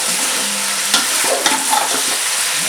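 Chicken sizzles steadily in a hot pan with onion and ginger-garlic paste while a utensil stirs and scrapes, with a few sharp knocks against the pan.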